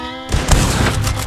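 Red Dead Online gunfire during a wagon ambush, a loud sharp report followed by a dense echoing crackle of shots that keeps rolling through the whole short moment.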